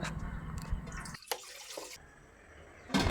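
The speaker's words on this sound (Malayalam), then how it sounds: "ചെമ്പട്ടിയിൽ പാകത്തിന് വെള്ളം ഒഴിച്ച് ഉപ്പിട്ട് തിളപ്പിക്കുക" Water is poured into a cooking pot to be boiled with salt for making string hoppers in a home kitchen, giving a close splashing gush that stops partway and then returns briefly at the end.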